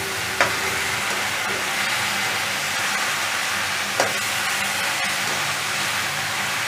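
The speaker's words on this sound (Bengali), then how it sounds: "এবার নাড়ছি" A steady sizzle and soft scraping stir of poppy seed and mustard paste curry with drumsticks in a frying pan, continuous and close, with a couple of faint clinks of the spoon against the pan.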